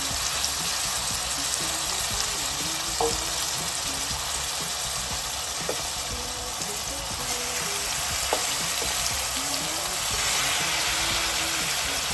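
Mutton keema sizzling and frying with onions in a pan, a steady close hiss with faint stirring scrapes and occasional clinks throughout.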